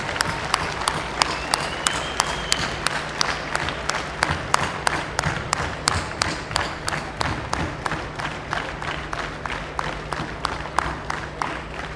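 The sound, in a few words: standing applause from university audience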